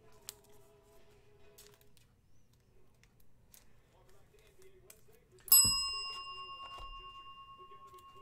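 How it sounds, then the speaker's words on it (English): A small bell is struck once, a sharp clear ding that rings and slowly fades, heard after several seconds of faint clicks and quiet handling noises. "I wanted to hit that bell."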